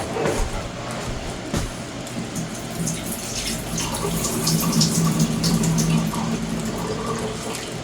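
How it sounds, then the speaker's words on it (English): Water pours and splashes steadily as it is strained out of a cooking pot into a sink, with a continuous rushing sound close by. "I have to strain out this water"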